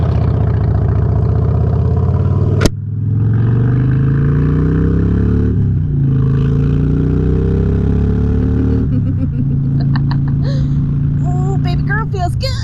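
A motorcycle engine runs close by, idling and revving in rising and falling sweeps after a sharp click, with someone talking over it at times.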